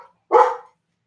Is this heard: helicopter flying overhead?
no